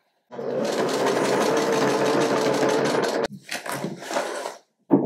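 Sewing machine stitching the waistband seam of trousers during a tailoring alteration, a steady close mechanical whir for about three seconds, then a couple of shorter stop-start runs of the needle.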